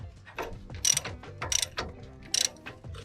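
Ratchet with a 32mm socket snugging down a castle nut on a ball joint: close, crisp clicking in short back-and-forth strokes, several quick bursts over a few seconds.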